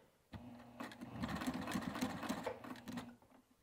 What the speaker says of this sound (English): once I get to the edge of the webbing, that's when I'm going to go ahead and pivot